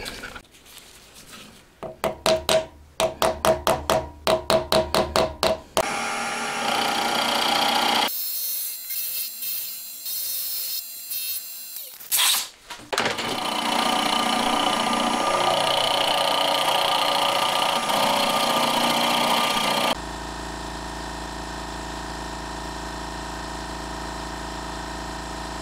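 Machine tools cut a cam bearing holder for a Honda Monkey engine being converted to four cylinders, with a run of short rhythmic bursts, then sustained loud grinding and whirring bands, ending in a steady mechanical hum.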